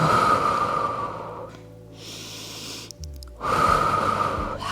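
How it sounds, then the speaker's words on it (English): Steady breathing in and out during a full-body stretching exercise, two soft broadband breaths separated by a quiet pause, close and moderately loud with no talk. "Keep breathing in and breathing out."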